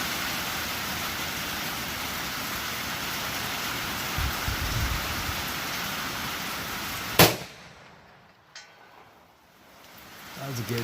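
Steady rain hisses before a single sharp, loud crack from a Mossberg Patriot .450 Bushmaster rifle; a faint, distant ding from a steel target follows in the quieter moments afterward.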